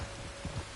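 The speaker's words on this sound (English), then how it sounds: "You were right about the damn rain." Rain falling in the video game Red Dead Redemption 2, a brief, fairly faint wash of steady patter with low rumbling underneath.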